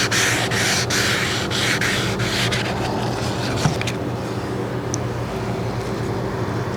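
Car paint is sanded smooth, with a steady close scraping that pulses in quick regular strokes at first and then settles into an even, continuous rub.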